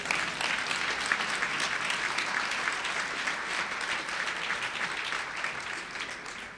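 Steady audience applause fills a Women's History Month celebration at Brooklyn Borough Hall, dense even clapping held at a constant level throughout, with no talk over it.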